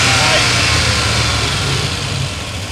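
A Hemi V8 with a ticking fault runs steadily up close, a broadband engine drone with a low rumble that eases slightly toward the end, with no talking over it.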